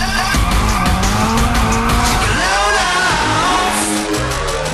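A Nissan S13 drifting in a circle in the Shift 2 Unleashed racing game, its tires squealing loudly and continuously over a revving engine that rises and falls with the throttle.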